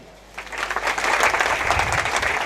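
A hall audience at a parent-teacher association meeting claps together on cue, the applause swelling quickly and continuing steadily for a couple of seconds.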